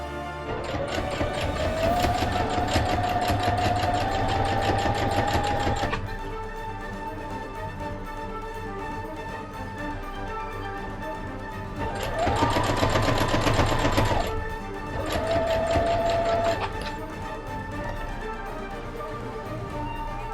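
Sewing machine stitching stretchy cosplay fabric in loud close bursts, a long run, a pause, then two shorter runs, with quieter idle hum between them.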